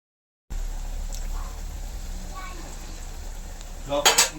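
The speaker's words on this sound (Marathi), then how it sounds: "मसाले सगळे तेलामध्ये फ्राय करतो." Spices frying in hot oil in a pan for egg bhurji give a steady soft sizzle, with a short louder burst of scraping and clatter near the end.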